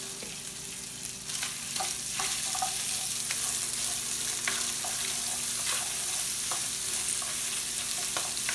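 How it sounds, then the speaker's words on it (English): Onions and peppers sizzle in a hot pan with browned turkey for a roasted garlic turkey vegetable bowl: a loud, steady frying hiss, close by, with scattered clicks and scrapes of stirring, and no voices. "Now we're going to throw in the onions and peppers."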